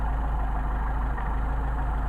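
A Mercedes 190SL engine idles on its Solex carburetors, a steady, even low rumble close by and unbroken, with no voices over it.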